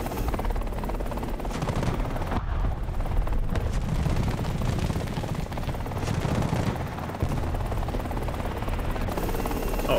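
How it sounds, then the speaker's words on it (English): A helicopter drones loudly and continuously in a Vietnam-era war video game while bursts of gunfire crackle throughout, creating a dense, unbroken battlefield din. "Let's go take out the helicopter."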